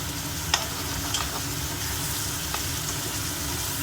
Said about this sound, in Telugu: అల్లం వెల్లుల్లి పేస్ట్ వేసుకోవాలి.